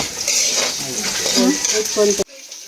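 Cabbage sautéing in a pan, a steady broadband sizzle with stirring under nearby talk, cutting off abruptly near the end.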